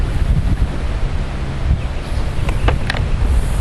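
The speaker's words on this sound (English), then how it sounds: "It's a little bit windy out here." Gusty wind outdoors on a 45-degree day buffets the microphone with a constant loud rumble, with a few faint clicks near the end.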